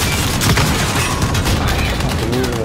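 Dense, loud gunfire in the Warzone video game, a continuous rattling barrage of rapid shots with no clear gaps, lasting a couple of seconds.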